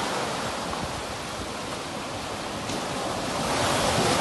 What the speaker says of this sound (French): Sur cette plage au Ouakam. Écoutez les vagues,